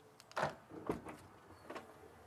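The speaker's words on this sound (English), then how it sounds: "The double scissor door trick." Short whirring motor sounds of an XPENG P7's powered scissor doors swinging up, two louder bursts followed by fainter ones, close by in a quiet space.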